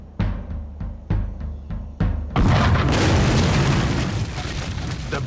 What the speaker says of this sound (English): The British fire a single cannon shot.